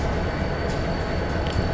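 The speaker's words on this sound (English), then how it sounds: "That's cab car 9641." Passenger train with a cab car at a station, a loud steady low rumble of rolling stock and wheels on rails with faint metallic clanks, no speech.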